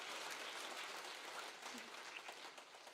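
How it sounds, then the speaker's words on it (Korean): A church congregation applauds during a sermon, with sustained, even clapping throughout. The applause tapers slightly toward the end, and the recording is quiet overall. "하나님께 영광의 박수."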